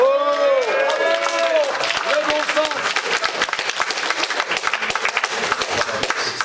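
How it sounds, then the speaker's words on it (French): An audience claps at a public meeting about a wind farm project in La Croix-en-Brie. A voice is heard briefly at the start, then a burst of applause fills the room and slowly thins out. "C'est sympa de se faire applaudir"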